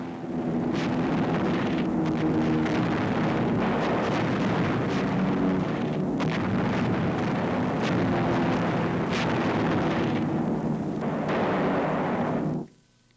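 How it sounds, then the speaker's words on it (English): Incendiary bombs explode and burn out Nazi installations in a wartime combat newsreel, a loud continuous roar of blasts and rumbling fire that cuts off abruptly at the end. "Incendiaries burn out Nazi installations which might disrupt our bridgehead operations."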